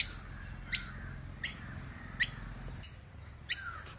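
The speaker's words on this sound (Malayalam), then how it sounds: "നല്ല കിളികളുടെ സൗണ്ടൊക്കെ ഉണ്ട് കേട്ടോ" Birds in a park give four short, sharp squawking calls at even intervals over a low background murmur, fairly close and clear.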